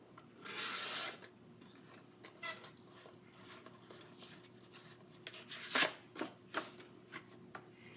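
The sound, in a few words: paper trimmer cutting paper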